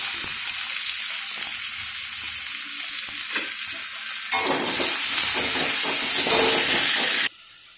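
Onions fry in a pan of oil tempered with black cumin seeds, giving a loud, continuous sizzling hiss that grows stronger about halfway through and then cuts off abruptly near the end.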